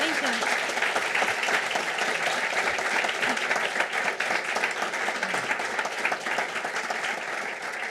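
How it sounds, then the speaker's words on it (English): Audience applause after a talk on security: sustained, dense clapping from a crowd, loud and even throughout, with a voice faintly under it. "Please give you. another hand of applause."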